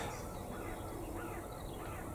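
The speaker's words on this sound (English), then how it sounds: "Morning, rooks." Rooks caw faintly in the distance over a soft, steady outdoor hiss on a chilly, quiet morning.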